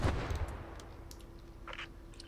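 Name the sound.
explosion in the video game Post Scriptum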